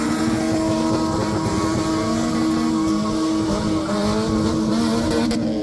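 Mazda MX5 doing a burnout at a King of the Rings event in Granard, a loud sustained engine roar with shifting revs and tire squeal throughout, steady and close with no talk.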